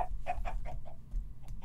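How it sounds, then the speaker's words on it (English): Chicken clucks in the Minecraft video game, a quick series of short, soft clucks in an irregular rhythm, heard alone. "chicken"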